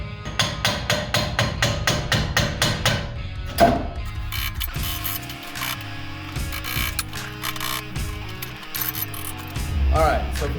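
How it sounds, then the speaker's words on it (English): A castle nut comes off a truck's ball joint on a 2014 Tacoma upper control arm job, worked with a Harbor Freight tool. A fast run of regular metallic clicks and ratcheting taps is followed by scattered clanks and handling noises. "So I'm going to take this castle nut off."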